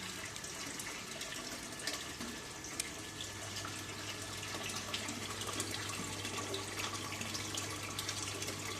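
A ZPS15-9-140 pressure-boosting water pump runs while water flows from an open tap, giving a faint, steady rush of water with a low, constant motor hum that settles in partway through.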